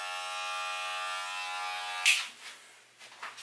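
Electric hair clippers buzz steadily during a home haircut, a close, even drone that cuts off abruptly about two seconds in, followed by a few faint clicks and handling noises.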